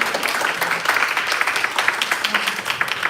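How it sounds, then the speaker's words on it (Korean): An audience claps for a teacher in a busy, continuous round of applause. The individual claps sound close and fairly loud, with no voices over them. "그러면 함께하지 않으시면 우리 아미도 선생님 위해 박수 한번 쳐주세요"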